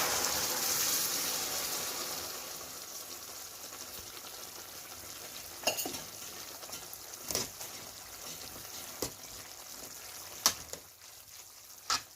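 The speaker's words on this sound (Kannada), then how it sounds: "ಜೊತೆಗೆ ಸ್ವಲ್ಪ ನೀರನ್ನು ಸಹ ಆ್ಯಡ್ ಮಾಡ್ತಾಯಿದ್ದೀನಿ." Water hits vegetables cooking in a pan for vegetable noodles, giving a soft sizzling hiss that slowly fades, dotted with a few faint clicks and taps.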